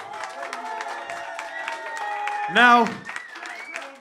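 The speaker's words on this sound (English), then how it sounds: "So, give him another round of applause." A live audience applauds an artist at an album launch: scattered claps and crowd noise under someone talking, with a short louder burst of cheering and clapping near the end.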